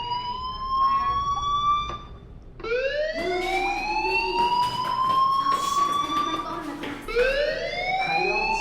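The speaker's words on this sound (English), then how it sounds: "Hey, do you hear that fire alarm?" Fire alarm in the game Life is Strange wails in rising, siren-like sweeps, loud and repeating, with a brief break before it starts up again and faint talk underneath.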